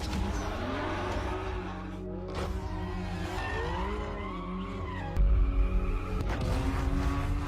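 A BMW M5 F10 with its twin-turbocharged 4.4-liter V8 drones steadily and loudly, its pitch rising and falling, with a squeal of tires and a deeper surge near the end.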